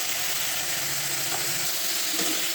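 Potatoes, peas and cabbage with turmeric and salt frying in a wok, giving a loud, continuous sizzling hiss that stays steady for the whole moment.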